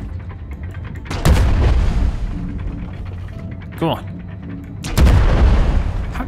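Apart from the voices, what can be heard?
cannon fire from an airship in the video game Worlds Adrift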